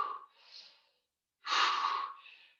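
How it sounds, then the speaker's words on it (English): Two deep breaths during a yoga stretch: a slow inhale and exhale, a pause of silence, then a stronger, louder breath in and a trailing breath out, close and clear. "Couple of deep breaths here."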